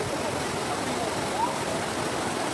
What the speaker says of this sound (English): We wake up early and head to Kudige waterfall.